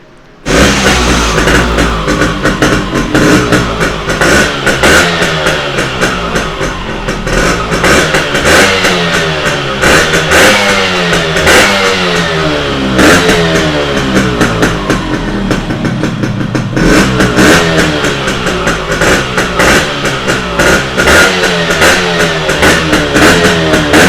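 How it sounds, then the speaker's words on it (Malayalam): A Yamaha RX motorcycle with a newly changed accelerator cable, started and revved hard, its two-stroke engine loud and close, rising and falling in repeated throttle blips with rattling clatter throughout. "ജസ്റ്റ് ഒന്ന് സ്റ്റാർട്ടാക്കിയിട്ട് വണ്ടി ഓക്കെ ആണെന്നുള്ള കാര്യങ്ങൾ ജസ്റ്റ് ഒന്ന് ചെക്ക് ചെയ്യാം"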